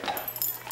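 A puppy gives a brief, high whimpering whine close by, soft and short against light room noise.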